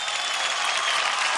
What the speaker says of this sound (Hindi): खुद के लिए तालियां बजा दो यार।